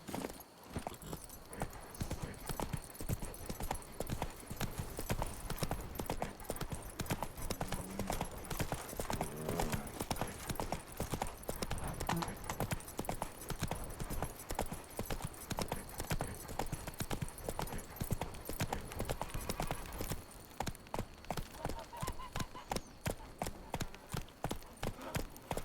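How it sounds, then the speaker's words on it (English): Horse hooves clip-clopping in The Witcher 3, a steady trotting rhythm that runs continuously and close for the whole stretch, with faint background ambience. "Not even a draft horse will talk without some carrot to move it. Whoa there, Roach."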